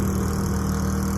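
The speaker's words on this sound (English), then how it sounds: "I got 2 generators running right now." Two Ai Power 1500 watt portable backup generators run together with a muffler, a steady close engine drone with no voices.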